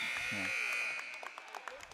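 A basketball game buzzer sounding at the end of a girls' varsity game, a loud sustained electronic tone that fades out, with voices briefly audible at the start.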